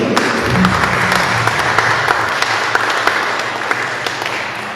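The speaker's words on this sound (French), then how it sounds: "Nous allons applaudir pour notre Seigneur" A Christian community congregation applauds in praise at the close of a worship gathering, a full room of steady clapping with a few sharper individual claps standing out and a brief low murmur at the start.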